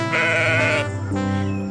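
A goat in an animated story bleats in one loud, close, wavering cry lasting under two seconds, its pitch shifting partway through.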